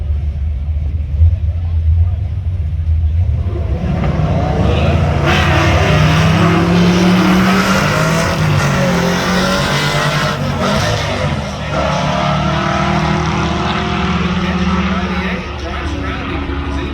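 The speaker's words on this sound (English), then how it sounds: "Matt Cartwright, the right lane with the Chevy Monte Carlo SS" A Chevy Monte Carlo SS drag racing at a motorsports park, its engine roaring loud and close as it revs up and pulls away, with an announcer talking over it.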